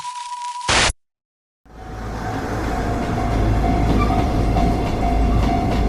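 A train rumbles and clatters steadily on the rails, loud and continuous, after a brief tone and a short pause of silence.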